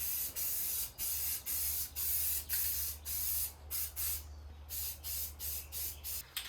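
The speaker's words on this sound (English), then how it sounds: "Kind of want to just put a light mist on it." Primer is spray-painted onto a Suburban roll pan in short, regular hissing bursts of the aerosol can, with brief pauses between passes, close and fairly loud.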